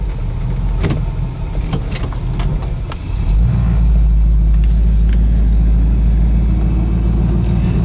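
A 1969 Plymouth Roadrunner's 440 V8 idles with a deep, rumbling burble, a few clicks and taps over it, then swells into a louder, steadier low roar close by.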